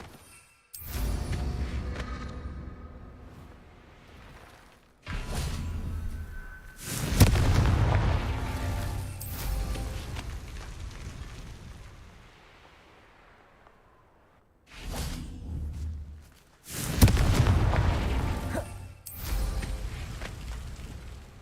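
The Confringo spell detonates in a video game, several loud booming explosions in separate bursts, each with a long rumbling decay, with no talk over them.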